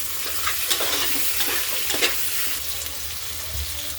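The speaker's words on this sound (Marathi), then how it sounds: "टमाटर 1 मिनिट भर परतून घेतले" Chopped tomatoes sauté with ginger-garlic paste and potatoes in a hot pan for a veg soya pea pulao, giving a continuous close sizzle broken by soft rhythmic stirring scrapes, with no speech.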